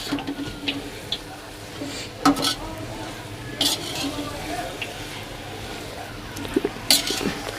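Grated carrot and sugar for gajar halwa being stirred in a kadhai, soft frying hiss under intermittent scrapes and sharp clinks of the spoon against the metal pan, close by.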